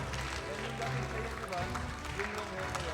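An audience at an esports match applauds steadily in a dense wash of clapping, with voices mixed in underneath.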